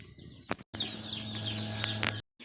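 A hundred day-old meat chicks settling into a brooder, giving high cheeping peeps with sharp clicks and flaps, close and fairly loud, broken by a couple of abrupt cuts to silence.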